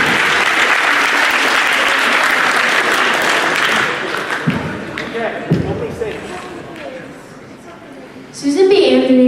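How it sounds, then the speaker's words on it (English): Audience at a middle school American history tournament gives a round of applause that is full and steady at first, then thins out into scattered claps and room noise, with a voice rising near the end. "one more round of applause for these two"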